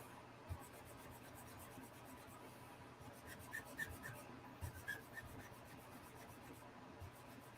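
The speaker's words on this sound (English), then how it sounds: "I can smooth it out with a sanding stick just fine." Quiet, steady rasping of a sanding stick smoothing a hard plastic part of a Tamiya M1A1 Abrams tank model, continuing with a few light taps and scrapes, close by and fairly soft.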